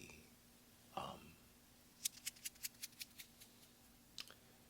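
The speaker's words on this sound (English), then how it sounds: "I'm going to use the regular scissors for the" A rapid series of about nine crisp scissor snips, close and fairly loud, preceded by a brief rustle, with one more snip near the end.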